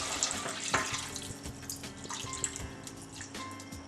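Water is poured into a pot of Indian gatta curry with yogurt and salt, a steady near splashing trickle that runs for several seconds with no talking.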